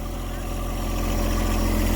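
A John Deere 1023e compact tractor with a backhoe attachment idles close by, a steady low diesel rumble that holds even and slowly swells slightly over the moment.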